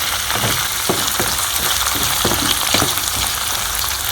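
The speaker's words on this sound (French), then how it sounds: "je vais laisser bien mijoter les oignons afin qu'ils sèchent bien, qu'ils s'imprègnent de l'huile de cuisson" Onions simmering in hot cooking oil for Gambian Benachi, a dense, steady bubbling sizzle with soft crackles, close and continuous throughout.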